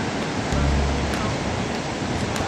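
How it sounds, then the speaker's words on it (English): Ocean surf breaking on a Samoan shore, a steady broadband wash with a louder swell of breaking water partway through, close and continuous. "Watch the waves, Mitch."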